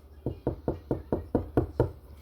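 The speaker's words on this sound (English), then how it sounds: "Second time to knock on wood" Eight steady, evenly spaced knocks on wood, close and fairly loud, with a dull hollow thud to each and no voices over them.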